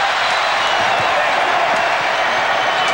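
A basketball arena crowd at a Knicks at Pacers playoff game roars in a dense, loud, sustained wash of noise, with no individual voices standing out.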